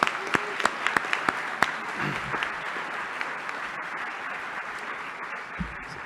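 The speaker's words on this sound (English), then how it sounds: "And please join me in giving them another round of applause." Graduating climate students at a Columbia Climate School class day ceremony receive an audience's dense applause, starting with sharp individual claps that quickly merge into a steady wash and slowly fade.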